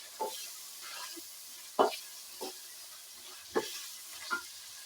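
Onion frying in a pan as part of a karela (bitter gourd) dish, with a low, steady sizzle and a handful of sharp spoon scrapes and stirs at an irregular pace, heard close by with no voices.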